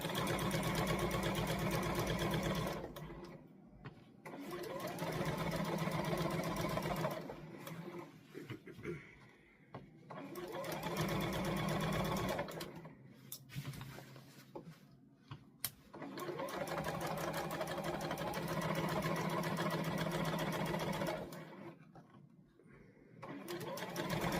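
A sewing machine stitches a jacket seam at a 5/8 inch seam allowance for pattern B6328, running in long loud steady bursts with brief pauses between, close by and without talk.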